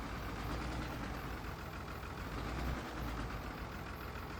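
Tractor engine in the video game Farming Simulator 25, a steady low droning idle that holds at an even, moderate level throughout with no voices.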